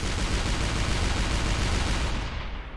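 Gunfire from the artillery game Shellshock, a dense sustained burst of loud blasts rolling continuously for nearly three seconds before tapering slightly at the end.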